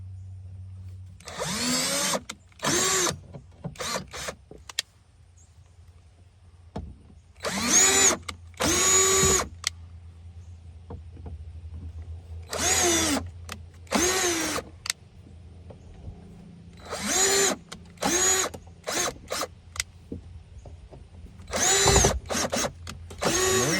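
A power drill whirs in short, loud bursts during a 2025 Toyota Corolla door speaker replacement, starting and stopping repeatedly with quiet gaps between runs.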